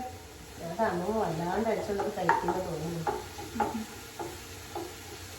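Ginger garlic paste sautéing in a pan with a soft sizzle and a spoon stirring, while a person talks over the cooking throughout.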